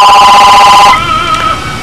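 A telephone rings with a loud, bright electronic tone for about a second, then cuts off, leaving a faint lingering tone against quiet background noise.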